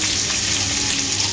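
Pechay sautés in a hot pan with a loud, steady, close-up sizzle and crackle that fills the short stretch without pause.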